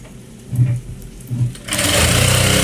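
A sewing machine stitching a uniform shirt gives two short whirring bursts, then runs into a loud, sustained buzzing stitch to the end.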